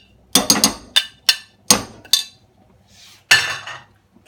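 A spoon scrapes and clinks against a bowl while mashed cottage cheese and quark are folded in with leeks, about eight sharp hits and scrapes at an uneven pace, close up, with no talking.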